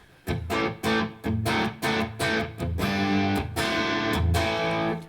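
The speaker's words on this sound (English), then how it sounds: "that's basically about as much distortion as the D20 has that you hear right now" Electric guitar chords played through the distorted channel of a 40-watt Dynamis amp, a handful of crunchy strums followed by longer sustained ringing chords, loud and up close.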